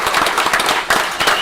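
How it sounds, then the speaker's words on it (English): An audience at a township committee work session gives a short, loud round of applause, dense clapping continuing throughout. "Let's give him a nice round of applause again"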